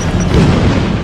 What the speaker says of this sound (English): you'll need to dodge Black Mask's grenades and gunfire